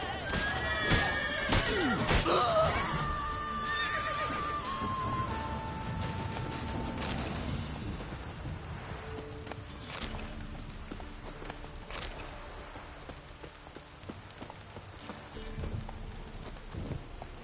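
Horse neighing and hooves clip-clopping in The Witcher 3, a loud whinny near the start followed by steady clopping footsteps that fade under game ambience.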